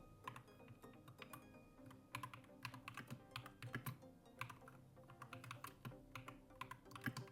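Typing on a computer keyboard while entering website text in a site builder, a steady run of close, quiet key clicks with short bursts and brief pauses throughout, no talking.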